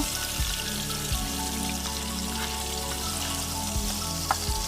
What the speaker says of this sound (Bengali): কিছুক্ষণ পর কেটে রাখা পেঁয়াজগুলো দিয়ে আবারও নেড়ে চেড়ে নেব।